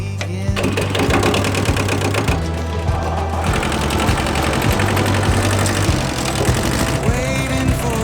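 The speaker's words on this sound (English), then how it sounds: "I'm just switching over the back box on the tractor for the grass mower" A farm tractor engine runs close by at a steady, loud drone with a rhythmic mechanical chatter while its rear box is swapped over for a grass mower; no voices are heard.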